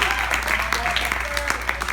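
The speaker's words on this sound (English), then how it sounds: "can we clap it up for Andrew?" Brief scattered clapping and applause from a small group, fairly close, with some talking mixed in.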